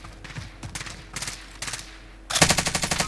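Bursts of automatic gunfire in the Call of Duty battle royale mode Iron Trials '84, scattered shots early on, then a loud rapid sustained burst near the end with no talking.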